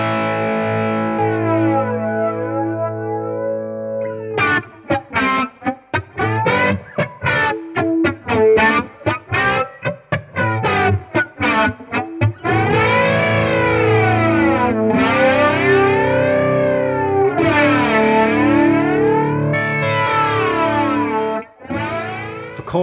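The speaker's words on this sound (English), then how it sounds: "let's get the standard flanger swooshing sound out of the way" Electric guitar run through a Boss BF-2 flanger pedal with controls near noon and resonance raised, giving a loud, continuous swooshing sweep over sustained chords and choppy strummed passages, with no talking.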